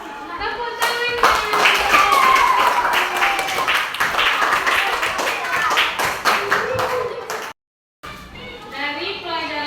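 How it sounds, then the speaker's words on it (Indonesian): A classroom of students claps in a steady, lively burst for several seconds under scattered children's chatter, then stops abruptly, leaving a brief silence before a voice talks. "Tepuk tangannya."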